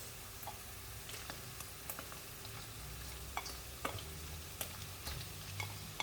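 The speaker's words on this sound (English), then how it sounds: "After this has been frying for a minute, we'll add in our garlic and our onions." Steady crackling sizzle of garlic and onions frying in a pan, with occasional sharp ticks and pops over a constant hiss; no one speaks.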